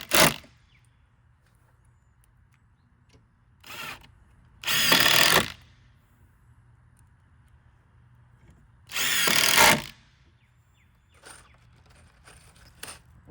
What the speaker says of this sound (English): So let's put the screws in.